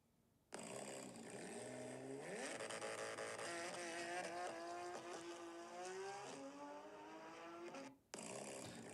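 A car's exhaust roars loudly as the engine revs up through rising pitches, then holds a raspy drone before cutting off abruptly and returning.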